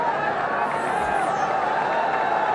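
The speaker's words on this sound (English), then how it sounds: "Very good crowd here." A big, steady cricket crowd at Eden Gardens murmurs and roars as a broad, distant wash of noise while a commentator talks over it.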